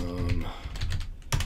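Keystrokes on a computer keyboard as a command is entered at a remote command prompt, a few scattered clicks with a louder tap near the end, close and clear.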